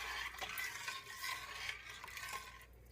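Turnip greens stirred in a pot make soft, close, rustling and swishing strokes with faint utensil scrapes, quiet and without any voice.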